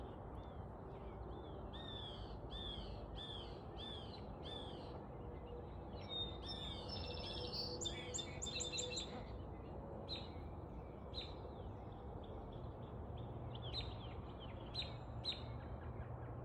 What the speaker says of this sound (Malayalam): പക്ഷികളുടെ സൗണ്ട് കൊണ്ട് നിറയെ പക്ഷികളുടെ സൗണ്ട് കേൾക്കാം